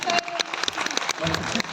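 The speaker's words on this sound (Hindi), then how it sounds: "ताली बजाना।" An audience claps at a 2024 meetup, a burst of scattered, crisp applause filling the short moment while voices carry on in the room.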